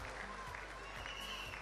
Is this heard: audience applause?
yes